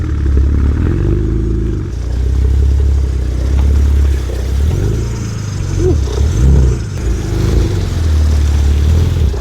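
Car stuck off-road, engine revving loudly and repeatedly in rising and falling surges with some clatter, close by.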